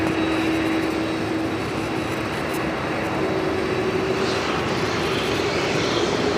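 An airliner taxis at LAX, a steady loud engine whine and rumble with a constant drone, no voices.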